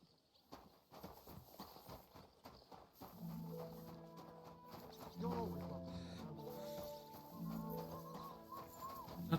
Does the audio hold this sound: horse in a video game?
yes